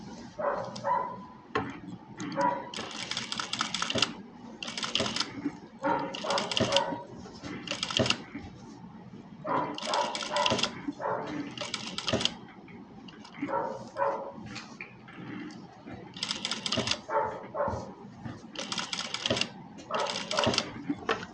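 Domestic sewing machine stitching a cut work design blouse, a quick mechanical clatter running in bursts of several seconds with brief pauses, steady and close, with someone talking over it.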